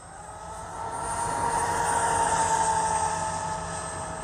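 Arrma Gorgon RC truck driving off-road with a steady electric motor whine that rises and holds, moderately close, with no voices.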